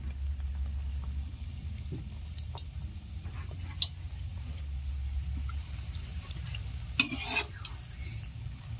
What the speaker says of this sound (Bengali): পিঠাগুলোকে এইভাবে উল্টে পাল্টে গোল্ডেন ব্রাউন কালার করে ভেজে নিলে পিঠাগুলো ভেতর পর্যন্ত খুব সুন্দরভাবে কিন্তু ভাজা হবে